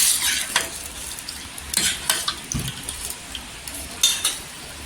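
Golden-browned onions sizzle in a pan for a carrot, beetroot and tomato soup, with a utensil stirring and scraping in several bursts over a steady frying hiss and no speech.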